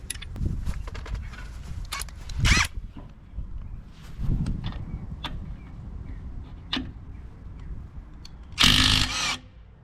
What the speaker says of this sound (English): If this impact wrench can take these lug nuts off